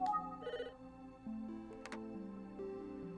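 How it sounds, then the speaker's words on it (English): Electronic telephone ring from the Famicom Detective Club video game, a short chiming melody repeated in bursts, clean and moderately loud with no voices. "The phone is ringing."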